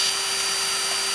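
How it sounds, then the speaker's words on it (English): A drill bores a hole into a 1941 wood-burning stove, giving a steady, continuous whirring grind that holds at an even level for the whole short stretch, with no talking. "is I just simply drill my first hole."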